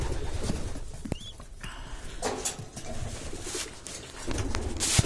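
Racing homing pigeons in a loft give soft, low cooing calls, close and fairly quiet, with light rustling and shuffling around them.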